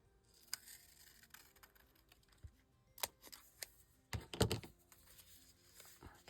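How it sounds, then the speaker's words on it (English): Scissors cutting a piece of paper for a golden-book junk journal page, faint crisp snips and small rustles, with a few louder clicks near the end. "We'll cut this piece off."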